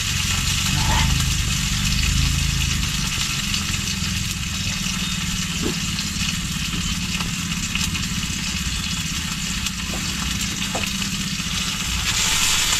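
Vegetables with onion and tomato frying and being stirred in a pan, a loud steady sizzle under a low engine-like hum, with occasional clinks and a voice talking over it.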